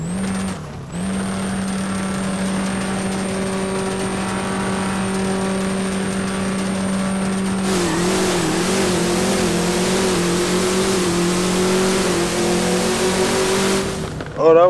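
Two Camaro ZL1 cars with 5.8 engines race side by side at a no-limit drag event, their steady roaring engine drone holding loud and close for the whole run before cutting off at the end.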